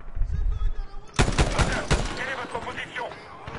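A burst of close, rapid gunfire in Medal of Honor breaks out after a low rumbling start, its sharp cracks tapering off into scattered shots and echoes over about two seconds, with a voice speaking beneath.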